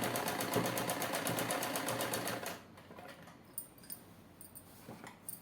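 A sewing machine stitches lace onto a suit in a fast, loud, rhythmic run for about two and a half seconds, then stops, leaving quiet handling sounds and small clicks.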